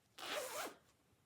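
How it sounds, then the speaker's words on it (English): An apparel zipper on a sewn soft Lisa cosmetic bag is pulled in one quick continuous stroke, a close, loud rasp lasting about half a second and ending abruptly, with near silence after. "And I used an apparel zipper for the zipper."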